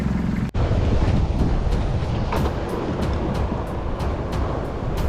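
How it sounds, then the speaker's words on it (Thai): Loud, steady rush of wind and rain buffeting the microphone on the sea off Satun, Thailand, near Koh Phetra, a continuous broadband roar with no voices. "ฝนก็ตกครับวันนี้ ทั้งคืนทั้งลมทั้งฝนเลย"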